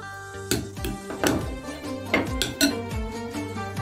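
A spoon scrapes and clinks against a bowl while grated garlic is stirred into yogurt, a rhythmic series of close, sharp taps and rubs with no talking.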